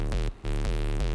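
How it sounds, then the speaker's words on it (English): A sine-wave synth bass patch made in the Massive plugin, with a pitch envelope, plays sustained low buzzing notes, each opening with a downward pitch drop. A short gap cuts the sound once, and no one speaks. "it's just a sine wave with a pitch envelope"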